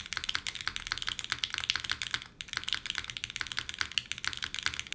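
Rapid, steady keyboard typing on a cork desk pad with soft, muted clacks, the strokes slightly dampened, continuing without pause and no voices.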